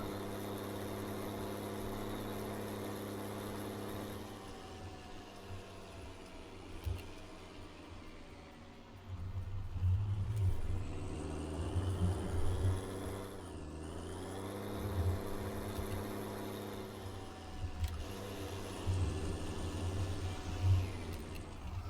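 A vehicle in a farming game on the Holzer map drives along with a steady, fairly quiet engine hum that shifts pitch as it speeds up and slows, with a few small clunks mixed in.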